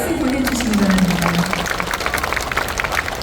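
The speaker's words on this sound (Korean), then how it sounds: "큰 박수 보내주시기 바랍니다" An audience at a Busan Buddhist expo talk breaks into steady applause, a dense wash of clapping, with a voice briefly heard over the start.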